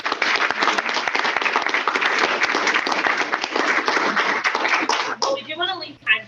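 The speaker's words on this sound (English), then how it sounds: "Let's give a big round of applause to all of our panelists." Audience applause for panelists at a university honors college guest panel, a sustained burst of many hands clapping that fades near the end as a voice begins speaking.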